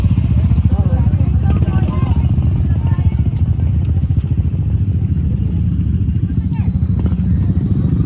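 Motorcycles run along a mountain road in Baybay City, Leyte, their steady mid-pitched engine drone continuous and fairly close, with clattering and crackling mixed in and no clear pause.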